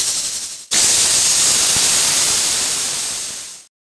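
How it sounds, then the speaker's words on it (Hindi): A pressure cooker that has been boiling potatoes in a home kitchen lets out a loud, steady steam hiss. It starts abruptly, holds for about three seconds, then cuts off, with no talking over it. "आप लोग को शायद कुकर की आवाज़ सुनाई देगा"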